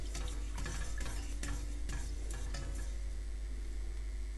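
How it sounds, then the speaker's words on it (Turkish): Milk and sugar being stirred in a pot until the sugar dissolves, for a pomegranate milk pudding: a steady soft scraping and swishing with faint light ticks, continuous and fairly quiet over a low hum, with no talking. "Şekerim eriyene kadar karıştıracağım."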